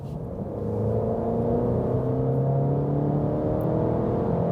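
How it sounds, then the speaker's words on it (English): A 2023 Alfa Romeo Giulia Competizione accelerating from 60 to 100 km/h heard from inside the cabin, engine note building smoothly in a rising, steady drone after a brief quieter start, with no talk. "60 kilometers an hour, first acceleration, let's go"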